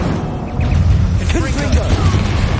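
A Bombarda spell blast from the video game Hogwarts Legacy: a booming, crackling burst with whooshing magical effects over a low rumble, mixed with game noise and a character's shouted voice.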